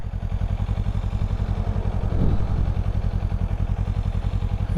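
A Kawasaki Eliminator motorcycle idling nearby, a steady even engine putter with rapid regular pulses and a brief swell in the middle, no talking.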